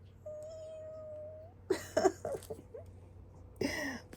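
A man imitates a cat's meow with his voice, a short steady tone followed by a few soft, close vocal meow sounds and a longer final meow.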